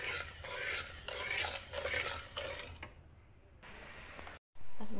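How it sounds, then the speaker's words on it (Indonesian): Coconut milk mixed with water for pandan wajik is stirred in a pot, a soft, rhythmic scraping in short repeated strokes, fairly quiet, cut off by a brief gap before a louder burst. "Kita aduk dulu ya guys, biar santannya itu tercampur dengan air"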